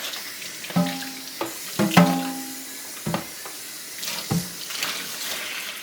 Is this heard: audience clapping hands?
no